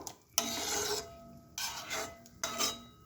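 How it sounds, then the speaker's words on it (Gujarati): A spoon scraping a pan as gram flour chutney is stirred over low heat, three long gritty rasping strokes separated by short pauses, close and alone. "હવે ચણાનો લોટ છે એટલે એને થોડીક વાર સતત હલાવતા રહીશું."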